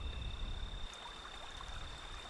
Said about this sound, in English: That is the trickling of water, the very sound of life itself.